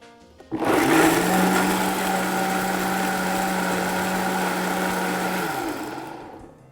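A countertop blender grinds about two teaspoons of whole peppercorns for a cioppino seasoning, a loud steady whir with a constant motor tone that starts abruptly, runs for about five seconds and winds down.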